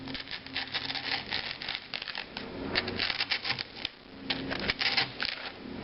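Blade cutting across a layered material for a Warhammer 40k bunker model, giving repeated scratchy, crackling strokes in uneven bursts close by, with no talk.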